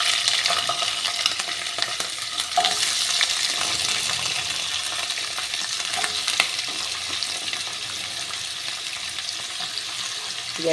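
Potatoes and onion fry in hot oil in a wok, giving a steady, close, loud sizzle with crackles and occasional stirring clatter throughout, with no talking.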